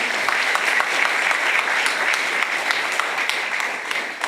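A crowd at a Saenuri Party campaign rally for a district head candidate in Incheon Nam-gu claps steadily and densely, a continuous wash of applause with no break.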